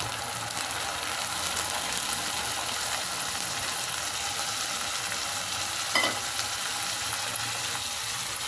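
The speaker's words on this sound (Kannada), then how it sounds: "ಈರುಳ್ಳಿ ಸ್ವಲ್ಪ ಫ್ರೈ ಆದ ನಂತರ ಹಚ್ಚಿದ ಟೊಮೊಟೊ ಹಾಕಿ." Chopped tomatoes sizzle in a pan of frying onions, a steady close hiss with faint stirring, one brief scrape partway through, and no voices.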